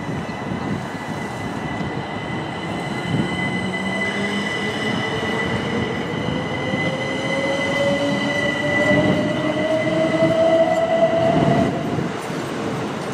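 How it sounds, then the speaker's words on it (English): A train on the railway in Kent moves past with a steady rumble, wheel squeal and rising tonal whine from the traction motors, loud and continuous throughout. "That train's leaving now."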